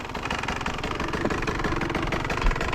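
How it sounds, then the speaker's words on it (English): A two-stroke motocross dirt bike engine runs steadily at close range on a backyard motocross track, its loud, buzzy drone holding an even rhythm throughout with no voices over it. "I'm bringing the two-stroke out."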